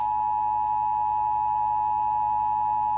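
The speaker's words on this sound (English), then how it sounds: "playing two tones, one at 853 Hz and one at 960 Hz. Put them together and you have the attention signal." An Emergency Alert System attention signal, two steady tones at 853 Hz and 960 Hz played together, sounds as one loud, unbroken electronic drone that holds constant for the whole stretch with no speech.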